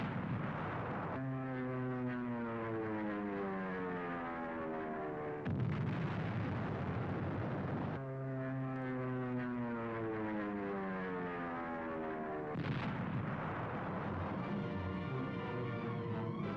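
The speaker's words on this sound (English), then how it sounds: "Now Mount Suribachi is smeared by Navy dive bombers." Navy dive bombers attack Mount Suribachi on Iwo Jima as loud aircraft engines rise and fall in repeated swooping dives, broken by heavy explosive bursts, with the whole battle sounding dense and continuous.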